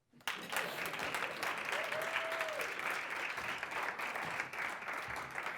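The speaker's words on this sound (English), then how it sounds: "You can clap now." Sustained applause from a crowd, dense steady clapping that fills the whole stretch without pause.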